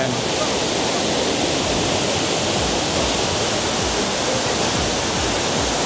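Kuang Si Waterfall in Laos roars as a steady, dense wash of falling water, loud and unbroken throughout with no pauses.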